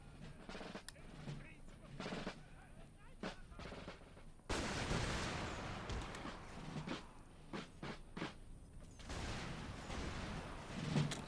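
Musket and pistol volleys from an Empire Total War battle with Prussian troops, sharp cracks popping in irregular bursts, then a denser, louder stretch of sustained firing with scattered individual shots.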